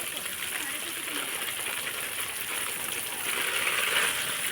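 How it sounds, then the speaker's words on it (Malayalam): Water sprayed over banana plants on a farm makes a steady, close hiss of spray and splashing that swells slightly toward the end, with no break. "ഇങ്ങനെ വെള്ളം അടിച്ചു കൊടുത്ത് കുളിപ്പിക്കുന്നതാണ്."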